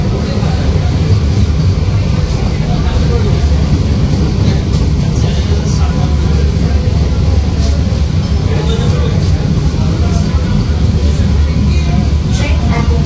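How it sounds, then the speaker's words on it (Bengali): A Sealdah–Ranaghat AC local electric train pulling away from Kanchrapara station, a loud continuous rumble and roar of the carriage heard from inside, steady and dense throughout with no pauses. "ট্রেন এখন ছাড়ছে।"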